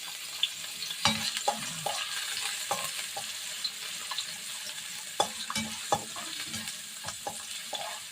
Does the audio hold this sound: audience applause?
no